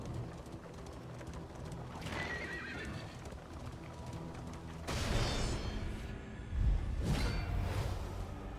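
Horse neighing and hoof clip-clops from the video game Darkest Dungeon 2, with a steady hooved rhythm under game ambience and two louder whinnying bursts toward the end.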